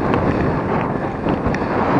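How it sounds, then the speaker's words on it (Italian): Wind beside the Mincio river buffets the microphone in loud, continuous gusts of rumbling noise, with no voices. "Nel frattempo si è alzato un po' di vento, che noia."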